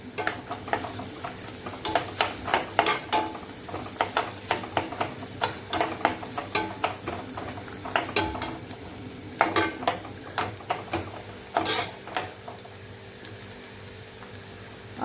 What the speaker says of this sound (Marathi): आता पुन्हा एकदा चांगलं मिक्स करायचं.